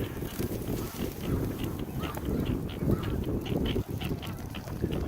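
A busy chorus of ducks and geese quacking and honking, many birds calling at once in a continuous outdoor din with no clear pauses.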